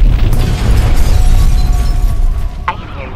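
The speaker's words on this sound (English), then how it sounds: "Most movies, when an explosion goes off, the filmmaker really wants you to hear it" A movie explosion: a loud, rumbling blast of noise that roars steadily and then fades, with a sharp crackle near the end, dense and heavy throughout.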